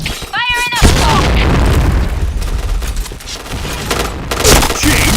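Grenade explosion in a shooter video game, a heavy boom followed by a long rumbling, crackling roar of debris and gunfire, loud and close, with a short shouted voice and electronic beeps just before the blast.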